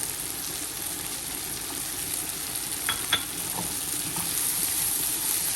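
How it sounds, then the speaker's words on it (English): Green chilies frying in a pan on low heat for a qeema karela dish, a steady soft sizzle with faint stirring clicks and one brief scrape near the middle. "And then you add few of your green chilies."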